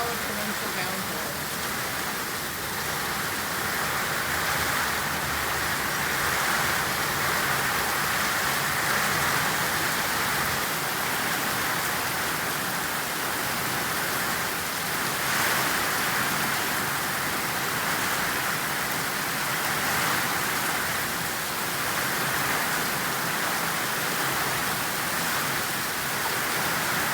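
Heavy torrential rain pours steadily and loudly for the whole stretch, a dense continuous hiss with no breaks and no talking.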